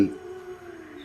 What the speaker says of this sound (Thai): เสียงหมาหอนอย่างหวยหวน